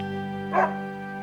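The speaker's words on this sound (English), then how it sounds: "Is this your dog?" A single short dog bark in a video game, muffled and mid-loud, rising over a steady droning music bed with no talk.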